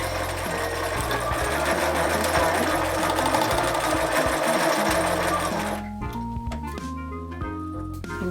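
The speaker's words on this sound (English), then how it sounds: "I'm just gonna sew a straight stitch to keep it together." A sewing machine runs a fast, steady rattling straight stitch through an organza rosette, then stops abruptly, leaving a few quieter mechanical clicks.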